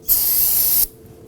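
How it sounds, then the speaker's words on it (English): A short, loud burst of spray solvent hisses onto a Subaru Legacy rear brake caliper to clear off residual brake fluid, one steady blast under a second long, then it stops abruptly. "Now I want to go ahead and use some spray solvent. Clean up any of that residual brake fluid."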